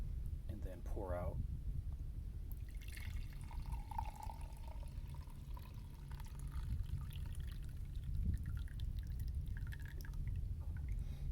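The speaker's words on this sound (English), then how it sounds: "and then pour out" Freshly brewed French press coffee poured out in a van kitchen, a steady liquid trickle and drip that runs for several seconds over a constant low hum, with faint background voices.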